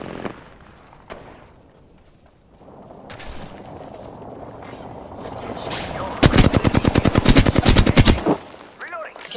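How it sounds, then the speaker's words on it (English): Rapid bursts of automatic gunfire in the video game Apex Legends, a loud close run of evenly spaced shots lasting about two seconds, preceded by softer in-game noise and scattered impacts. "I'm under fire."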